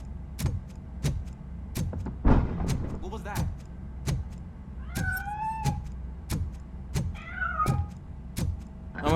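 A cat meows in RoboCop: Rogue City, with a few rising and falling cries standing out against sharp, regular game impacts and background noise.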